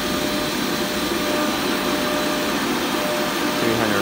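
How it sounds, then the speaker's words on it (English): An automotive AC refrigerant recovery machine purging refrigerant into its tank, giving a constant close whirring, hissing drone for a few seconds with a slight shift at the end. "right now it's purging out refrigerant from the machine to get all the liquid out, push it into the tank"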